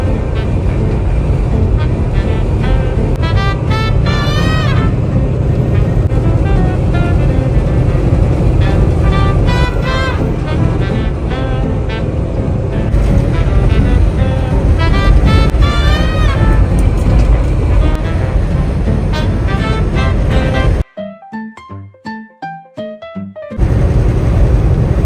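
A semi-truck hauling a trailer through high winds in Texas, heard from inside the cab as a loud, steady roaring rumble that never lets up, with someone talking over it and a short dip near the end.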